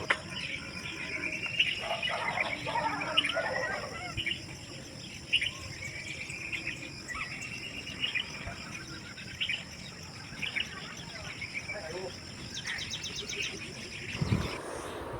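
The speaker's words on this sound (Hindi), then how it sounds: "तो अब ये सुनो पक्षियों की आवाज़ सुना" Birds calling outdoors beside a home, their chirps scattered across a steady bed of cricket and insect noise, moderately faint, with some quiet background activity and a louder thump near the end.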